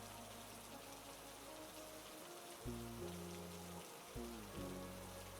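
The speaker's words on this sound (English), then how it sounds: "The rain still falls, calm and steady, like the earth breathing." Steady rain falls in a continuous, even wash of hiss, with low tonal hums drifting in and out beneath it; no voices.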